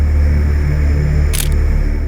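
A single sharp camera shutter click snaps once partway through, brief and close, over a steady low background hum.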